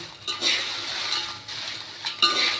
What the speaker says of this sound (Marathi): आता ही मिरची या दोन अशा चमच्यांच्या साही साह्याने अशा प्रकारे ही भाजून घ्यायची आहे